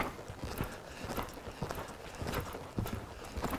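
Hooves of a horse loping in riding training, a steady rolling clip-clop rhythm of dull thuds on soft ground, moderately close and fairly quiet, with no talking.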